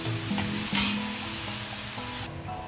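Vegetables and tomato sizzling in a pan over low heat, a constant dense frying hiss with a couple of stirring scrapes before the sound suddenly drops off near the end; no speech.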